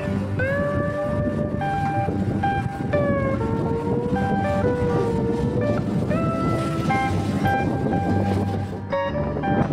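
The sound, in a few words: local train departing Rajchandrapur, Sealdah to Dankuni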